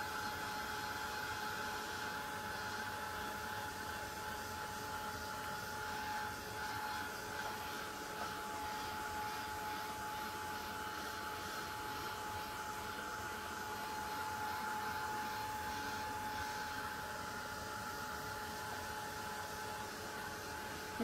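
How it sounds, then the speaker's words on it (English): A Tim Holtz heat tool drying an altered blank craft canvas, a steady, fairly quiet whirring blower hum with a faint whine, continuous and unchanging throughout, no voices. "the Tim Holtz is making not a lot of noise, but it's not so fast drying as other ones"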